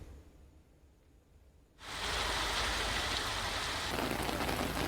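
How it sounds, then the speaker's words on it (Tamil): Rain falls in Tiruvarur district, Tamil Nadu, starting as quiet ambience before a sudden onset of loud, steady, dense hiss that continues evenly as a downpour. "லேசான மழையும் அவ்வப்போது மிதமான மழையும் பெய்து வருகிறது"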